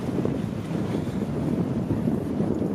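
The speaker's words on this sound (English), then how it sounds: "It's very windy today." Strong wind gusting at a boat ramp by the water, a constant loud rumbling roar buffeting the microphone with no voices.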